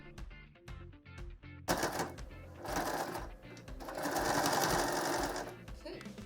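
A sewing machine back-stitches layered fabric with inset frills, a steady mechanical whir that runs in stretches and grows busier partway through, with some background sound mixed in.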